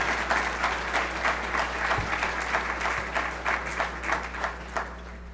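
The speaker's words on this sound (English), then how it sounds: "Please join me in a round of applause for their support of economic development." A conference audience applauds economic development sponsors at a morning State of the City event, a steady wash of many hands clapping throughout, fairly close and full, with no talk over it.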